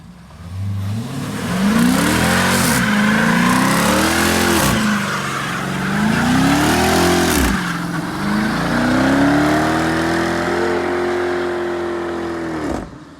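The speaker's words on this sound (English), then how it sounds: "That's how you do a burnout." Dodge Charger fitted with a camber kit and big wheels doing a burnout, its engine revving up and down in repeated surges with tire squeal hissing underneath, loud and close throughout.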